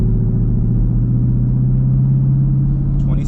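ProCharger-supercharged car engine revving in third gear at a steady held RPM, a loud continuous low rumble with a faint whine, close up and with no speech.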